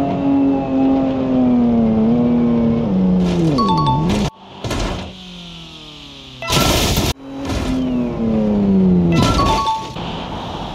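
Toyota GR Supra and Honda Civic Type R racing in BeamNG.drive, engines whining and shifting pitch up and down, interrupted by sharp bursts of crashing and clinking impact noise.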